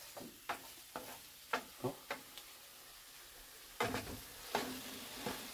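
Shallots, garlic, chilies and mushrooms sauté in a pan under a soft, steady sizzle, broken by repeated sharp scrapes and taps of a utensil as they are stirred. One voice gives a brief exclamation.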